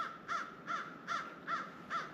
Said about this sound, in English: I hear a crow calling.